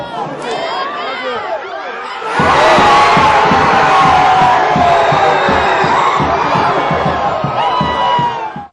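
Football crowd in a stadium erupting into loud, sustained cheering and shouting after the opening goal, a swelling roar that holds steady with a voice talking over it before it ends.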